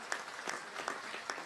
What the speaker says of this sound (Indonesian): Tepuk tangan dulu untuk panitianya luar biasa